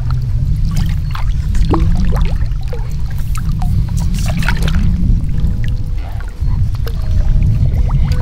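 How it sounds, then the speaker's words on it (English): A landing net swishes and sloshes steadily through the water of a natural swimming pool, stirring up sediment. The churning liquid sound is continuous and fairly loud and close, with small splashes and drips throughout and no talking. "you go in with your landing net like this, you raise the dust and you take it off the water."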